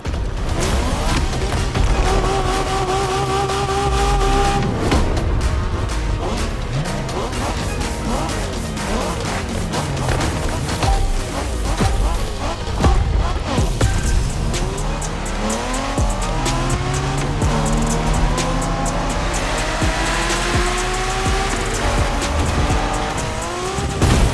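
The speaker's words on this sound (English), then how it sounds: "We're going for some proper Japanese street racing." Street race in The Crew Motorfest video game, set in a Japanese street-racing event: loud revving car engines run throughout, with repeated tire squeals and skids and a crash-like impact, continuous and dense with no talk.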